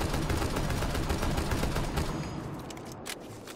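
Rapid automatic fire from an SMG-12 or similar gun in Rainbow Six crackles in a continuous, loud burst that holds steady for a few seconds and then cuts off.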